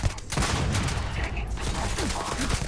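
Sustained gunfire from a Starfield combat encounter, a dense, continuous barrage of shots rattling on for the whole stretch with little let-up, fairly loud and close.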